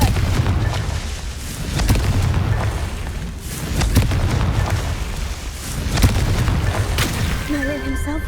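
Confringo spell blasts from the Hogwarts Legacy video game go off as repeated booming explosions, loud and close, with rumbling bursts every second or two and a short musical chime near the end.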